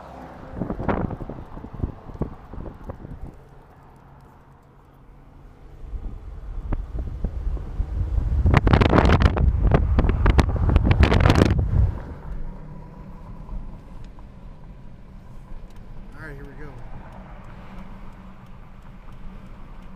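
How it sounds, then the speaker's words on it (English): A 2013 Dodge Challenger R/T engine and exhaust drone steadily while driving, then swell into a loud roaring burst before settling back to a lower hum. "Crack the window a little bit so you can hear the exhaust."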